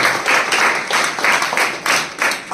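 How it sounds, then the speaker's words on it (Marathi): An audience claps to welcome a speaker at a gathering, producing a fairly faint, moderately paced run of claps that comes in several swelling waves. "आपण टाळ्या वाजवून स्वागत करू"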